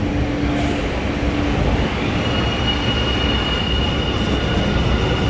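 A Metro A Line train pulls into an underground station in Los Angeles, its steady rumble filling the platform along with a thin, sustained wheel squeal, loud and close throughout.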